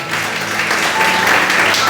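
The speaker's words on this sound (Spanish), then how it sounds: "Dale un fuerte aplauso al Señor." A church congregation breaks into steady, dense applause, close and fairly loud, holding evenly for a couple of seconds with some voices mixed in.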